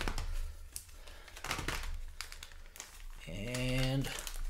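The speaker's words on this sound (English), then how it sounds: "All right, I'll do one more shuffle here." Magic: The Gathering trading cards being shuffled by hand, a dry crinkling riffle of card stock that comes in bursts, closely miked, with a louder tonal noise entering near the end.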